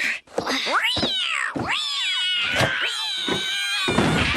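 A cartoon cat meows and caterwauls in a series of loud, drawn-out, wavering cries, several separate yowls in close succession with no talking.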